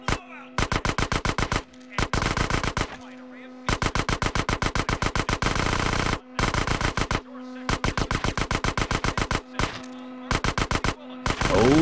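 Rapid gunfire in Grand Theft Auto San Andreas, repeated fast bursts of sharp shots separated by short pauses, loud and close, with a voice talking over parts of it.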